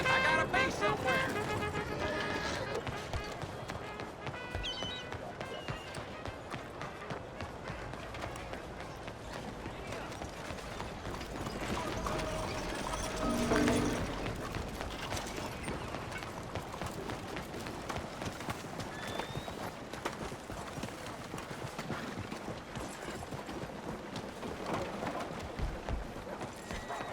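A horse galloping in the Red Dead Redemption 2 video game, rapid hoofbeats drumming steadily for the whole stretch beneath game ambience, with voices talking over it.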